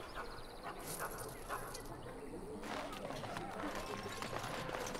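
A dog barks and whimpers in Dragon Age: Origins, with short yips over a steady bed of game ambience and background music, the barks coming in scattered bursts at moderate distance.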